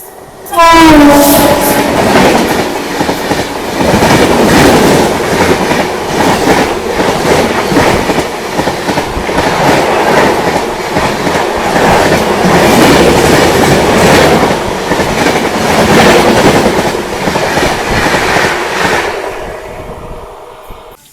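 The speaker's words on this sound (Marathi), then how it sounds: "निंबोरा रेल्वे स्टेशन येथे आपल्याला ही गाडी ओव्हरटेक करून जात आहे." A train overtaking at Nimbora railway station, a loud close roar of passing coaches with rhythmic clickety-clack over the rails and a horn blast near the start, sustained for about twenty seconds before cutting off.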